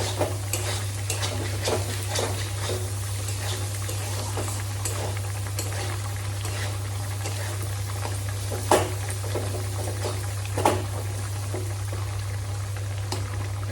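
Bitter gourd frying in a pan gives a soft, steady sizzle with scattered crackles and a couple of sharper clinks, over a constant low hum, with no voices.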